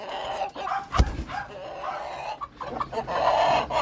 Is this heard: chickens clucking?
yes